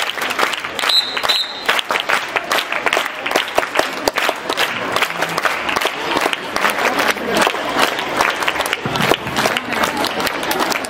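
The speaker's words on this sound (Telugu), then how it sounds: "పిల్లలు ఒక్కసారి గట్టిగా చప్పట్లు" Students clapping at an awards ceremony for 10th-class students, a dense, loud burst of applause from a crowd, sustained for about ten seconds with a few cheers mixed in.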